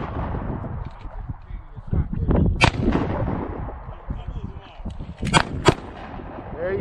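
Handgun shots ring out at an outdoor shooting range during a concealed carry course, a few sharp loud cracks spread across the clip over steady background noise and nearby talking.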